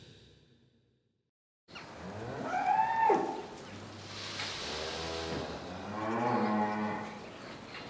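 A cow gives two drawn-out, close moos, each with a rising and falling tone and separated by a short pause, after a moment of silence at the start.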